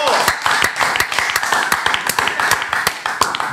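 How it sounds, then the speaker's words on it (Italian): Crowd hand clapping rings out as a fast, fairly regular run of sharp claps, loud and close, continuing without pause for several seconds with a little talk underneath. "io ho applaudito anch'io, a caso"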